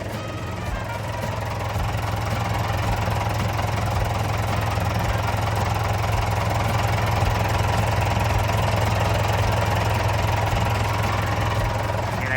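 Four-cylinder diesel engine of a Komatsu 510 wheel loader idling steadily up close, a continuous low rumble with a faint knocking rhythm running unbroken throughout, with no talk.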